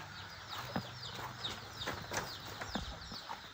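Chickens clucking around a rural Lao home, short scattered calls and squawks at a moderate distance over a steady outdoor background.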